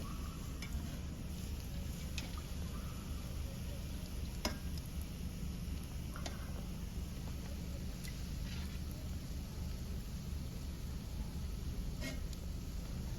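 Wheat flour biscuits fry in oil in a wok, crackling and sizzling steadily throughout, a dense even frying hiss with occasional small pops and clicks.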